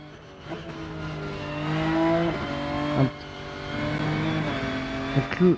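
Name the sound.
BMW race car driving around Hockenheim in Rennsport video game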